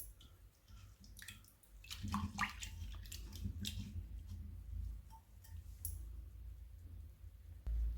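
Water splashes and trickles as it is poured off rinsed red lentils, with a few clinks of a vessel, and a soft steady flow continuing to the end.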